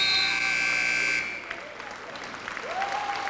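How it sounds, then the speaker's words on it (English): A loud electronic buzzer sounds at a 1998 CIF high school wrestling championship, a sustained tone for just over a second that then cuts off, leaving a noisy gymnasium crowd murmuring. "And there is a buzzer."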